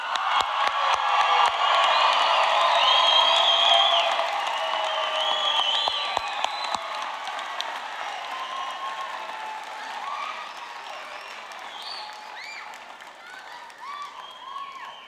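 Audience applause at a 2014 adult education commencement ceremony, a dense sustained clapping from a large crowd with a few whoops, loud at first and slowly thinning out.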